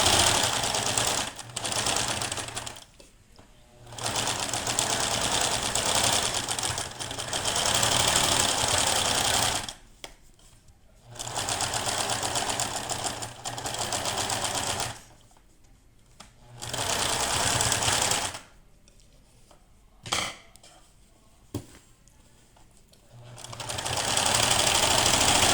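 Sewing machine stitching a fabric cat figure, running in bursts of several seconds with short pauses between, including a quick backstitch to secure the seam; loud and close, with no talk.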